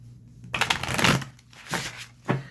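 Tarot cards being riffle shuffled close up, a crisp fluttering rush of paper that swells and fades twice with a low hum in the background.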